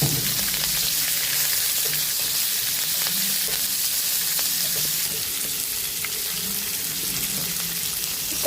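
Two small onions and two green chillies frying in a pan, giving a steady, dense sizzle that runs without pause, close up and with no talk.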